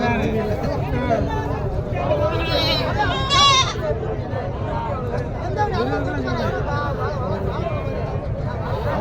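A pet goat bleats several times amid close outdoor chatter, its wavering calls rising above the voices.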